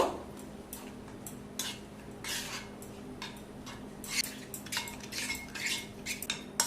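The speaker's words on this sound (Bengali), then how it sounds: "আর দিয়ে দেব গরম সর্ষের তেল প্রায় তিরিশ এম মতো এবার সমস্ত উপকরণগুলোকে খুব ভালোভাবে মিশিয়ে নেব" A spoon clinks and scrapes against a bowl while paneer tikka ingredients are mixed with hot mustard oil, in soft irregular taps and scrapes, close and fairly quiet, with no voices.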